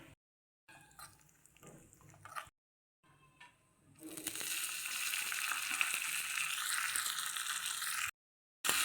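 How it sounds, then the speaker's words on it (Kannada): Pistachios, almonds, cashews and raisins fry in ghee, a soft sizzle that breaks off several times and then turns into a steady, close hiss, with no talking. "ತುಪ್ಪದಲ್ಲಿ ಹುರ್ಕೋತಾ ಇದ್ದೀನಿ"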